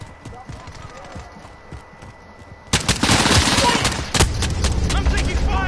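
Gunfire aimed at the player in Call of Duty Modern Warfare (2019), rapid loud automatic bursts that start suddenly partway through and keep going, with sharp shots over them, after a quieter opening under talk.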